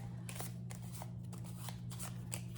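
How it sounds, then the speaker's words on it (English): Cards riffle and snap in quick bursts as a deck is shuffled several times, close by and crisp, with no talking. "Shuffle the deck"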